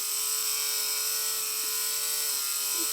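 A small electric motor drives the gear assembly of an R/C rocket car on 6 volts, giving a steady, even whine with a constant tonal hum that holds without change for the whole stretch.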